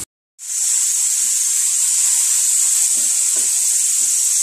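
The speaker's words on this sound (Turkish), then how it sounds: "Domatesleriniz suyu çekilene kadar kavurma işlemine devam edin." Minced meat and large chopped tomatoes sizzle steadily in a pan as they are sautéed for a börek filling, a constant close hiss with a few faint stirring clicks and no talk.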